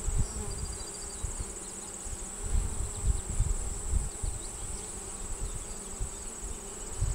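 Honey bees buzz around an open hive during an inspection of a colony moved from a 5 to a 10 frame box, a dense, steady drone close by with individual bees flitting past the ear.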